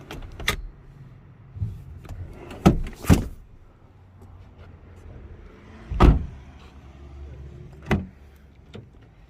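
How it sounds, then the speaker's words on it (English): Electric windows on a 2019 Nissan X-Trail 1.7 dCi Tekna are run up and down, with a quiet motor hum punctuated by sharp switch clicks and thuds spaced irregularly at close range. "Four electric windows"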